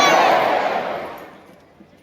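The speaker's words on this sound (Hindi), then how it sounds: "जोरदार तालियां हमारे इन जनजाति।" A large crowd at an outdoor divisional cultural festival in Jagdalpur, Bastar, bursts into loud applause that starts at full strength and tapers away over two seconds.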